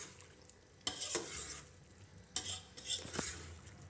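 Spiced meat with turmeric and red chilli being stirred in a pan for a bitter melon and meat dish, with two bursts of scraping spoon strokes over a soft sizzle, close and moderately loud, no talking.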